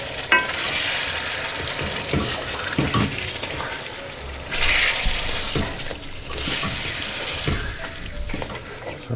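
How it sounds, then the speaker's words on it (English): A pot of Jamaican curry goat is stirred after chopped tomatoes go in, with wet sloshing and clinking spoon strokes in bursts over a soft simmering hiss, heard up close without speech. "So I'm just going to give this a stir in."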